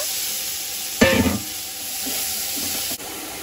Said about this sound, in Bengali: চিংড়ি মাছগুলো এই তেলে ভেজে নেব।